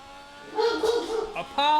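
A pet dog named Apollo barks and yips indoors, a few sharp close barks mixed with a voice, while a racing game runs in the background.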